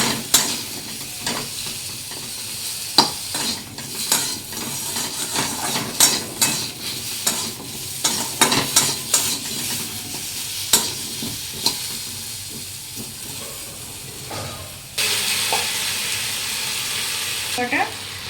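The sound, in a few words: taro frying in a pan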